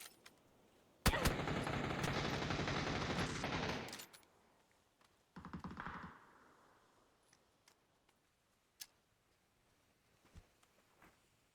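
MG3 machine gun fire in PUBG, a loud sustained automatic burst lasting a few seconds, then a shorter, quieter burst and scattered distant single shots afterward.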